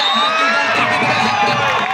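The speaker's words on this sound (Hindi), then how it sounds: "तमाम दर्शकों की वो चीखो पुकार सचिन सचिन वो आवाज आ रही है इस समय मैदान के ऊपर" Spectators at the CGKPL 2025 kabaddi final shout and cheer loudly and continuously, a dense close crowd roar with high whoops and children's voices rising above it.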